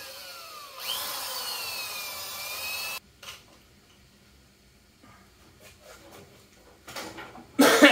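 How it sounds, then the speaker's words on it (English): A power drill with a dull 1-inch hole saw whines loudly for a few seconds, stops, then short bursts of cutting and grinding follow, ending with another sharp drilling burst. "drill all these holes we just center punched with a 1-inch hole saw"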